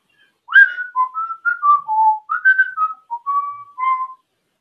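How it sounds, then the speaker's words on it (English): A bright, tuneful whistled melody from a TV theme song carries on alone, phrases of sliding and held notes with short gaps between them. "There's whistling in it."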